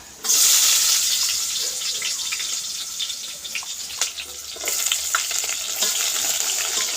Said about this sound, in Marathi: इथे मी का कांदा उभा चिरून घेतलेला आहे आणि मिरची सुद्धा घेतलेले आहे उभी चिरून ते सुद्धा आपण इथे भाजून घेऊया